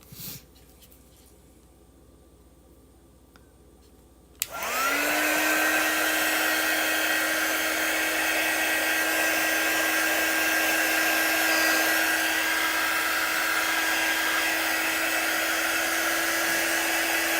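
A handheld hair dryer switches on with a click and rises into a loud, steady whooshing whine that continues unbroken while drying chalk artwork, heard close and alone.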